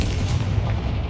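A Confringo fire spell blast in Hogwarts Legacy, a single dense, rumbling boom with a fiery burst that fills the short moment at close, loud level with no voice over it.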